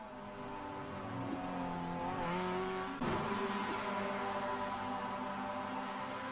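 A race car in a roadster race spins its rear tyres, giving a sustained loud engine drone with a rising squeal and a sudden jolt midway, continuous throughout.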